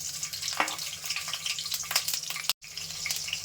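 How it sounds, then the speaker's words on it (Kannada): Green chillies crackle and sizzle in hot oil with cumin seeds, a steady broadband frying hiss with sharp pops, close and fairly loud, briefly cutting out near the end before resuming. "ಈಗ ಅದೊಂದು ಸ್ವಲ್ಪ ಮೆಣಸಿನ್ಕಾಯಿ ಎಲ್ಲ ಚಟ್ಪಟ ಅನ್ಬಾರ್ಕ"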